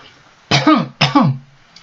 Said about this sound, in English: Vinyl broke out into a violent coughing fit that seemed without end